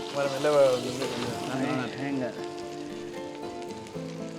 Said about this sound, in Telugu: వీటిని మంచిగా ఫ్రై చేసుకోవాలి మనం.